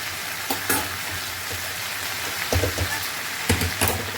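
Crab masala sizzles steadily in a pan over a low gas flame, a continuous crackling fry broken by several scraping stirs of a spoon.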